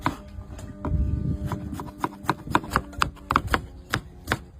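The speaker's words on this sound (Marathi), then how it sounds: "पण आता टमाटे कट करून घेऊ।" A knife chops tomatoes on a board for a Maharashtrian wedding-style usal, with a run of sharp, uneven taps. The strikes come close together and grow louder and quicker toward the end, and no one speaks.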